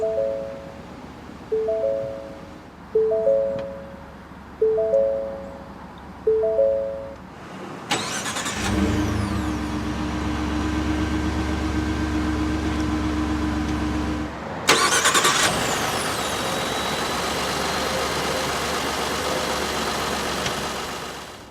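A 2015 Ford F-150 Platinum FX4 starts with a push-button start after a series of chimes, then the engine cranks, catches with a surge and settles into a steady, close idle, with a second brief rev partway through.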